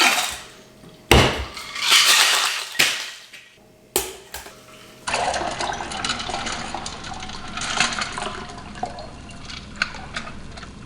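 Dirty martini of vermouth, olive juice and vodka shaken hard with ice in a cocktail shaker, a loud steady rattle of ice taking over after a few separate clinks and pours.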